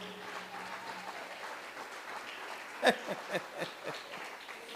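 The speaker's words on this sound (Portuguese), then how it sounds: "Aplauda o Senhor." Congregation clapping for the Lord during a Pentecostal-style church service, a faint, thin patter of hands under a low murmur, with a few louder claps or knocks breaking through near the end.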